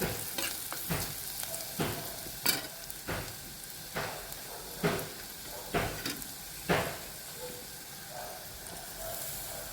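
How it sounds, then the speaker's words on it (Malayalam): Onions frying in oil with crushed garlic and ginger for a Kerala-style roasted coconut chicken curry, a steady close sizzle broken by repeated spatula stirs and scrapes at a regular pace. "നന്നായി ഇളക്കി കൊടുക്കണം, അല്ലെങ്കിൽ കരിഞ്ഞു പോകും."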